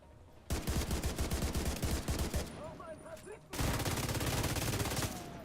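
Rapid automatic gunfire in the video game Division 2, with dense bursts of close, loud shots, a brief lighter spell with a voice underneath, then another sustained barrage.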